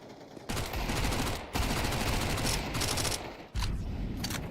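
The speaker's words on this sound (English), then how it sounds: "We'll see the opening kill from the Mag 10 coming through." A Mag 10 shotgun fires during an esports match of a shooter game, several loud bursts of sustained gunfire separated by brief gaps, close and dense.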